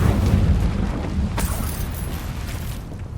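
Incendio fire spell cast in Hogwarts Legacy, a deep rumbling whoosh of flame with a brief burst partway through, sustained and fairly loud against a low game soundscape.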